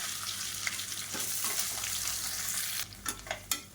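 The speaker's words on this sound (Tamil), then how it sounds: "இப்போ இதில் மீடியம் சைஸாக ஒரு பெரிய வெங்காயம் கட் பண்ணதை சேர்த்துக்கலாம்" Sliced big onion sizzles in hot oil with curry leaves and spices in a pressure cooker for chicken biryani, giving a steady close frying hiss with a few sharp stirring clatters near the end and no talk.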